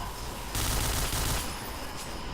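Dense gunfire from the video game Emperor rattles on without pause, a loud continuous fusillade filling the whole stretch.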